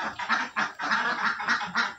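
Laying ducks on a dry-pen duck farm quacking in a rapid, repeated chorus of nasal honks, close and fairly loud, with no talk.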